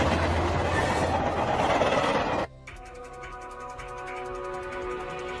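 A runaway train in an anime with its control valve malfunctioning, a loud rushing roar that cuts abruptly into a quieter rhythmic rattle of wheels on track.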